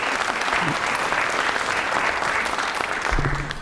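Steady, full applause from a school audience at an evening student awards ceremony fills the room throughout, a dense, even patter of many hands with a brief low voice near the end.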